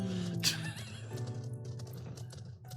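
A horse mount in Final Fantasy XIV gives a short sharp whinny near the start, followed by hoofbeats under background game music.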